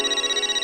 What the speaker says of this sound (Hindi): पोपटलाल का फोन